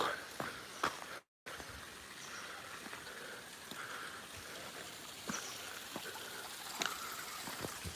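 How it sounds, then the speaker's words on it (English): Small waterfall in a forest, a steady broadband rush of falling water running throughout with a brief dropout, occasional footsteps and handling noises on top. "It's not the greatest waterfall, but it's a waterfall"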